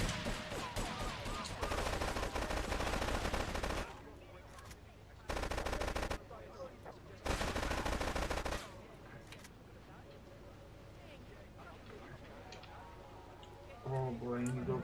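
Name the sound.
gunfire in GTA 3 video game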